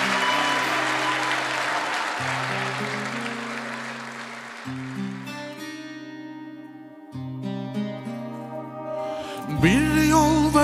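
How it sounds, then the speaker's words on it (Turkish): A studio audience applauds loudly for a performing trio on a televised Turkish music show, the clapping fading as band music with sustained chords takes over and grows. "Alkışlar muhteşem üçlüye gelsin"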